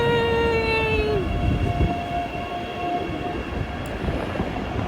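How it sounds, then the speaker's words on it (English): A train arrives at a station with a loud continuous rumble of wagons rolling past and a sustained horn tone that drops in pitch and fades as it passes. "there is a train coming"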